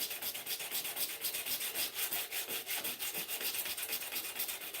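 A knife blade is hand sanded with 120 grit sandpaper, giving a close, steady rasping of quick, even back-and-forth strokes that continue throughout.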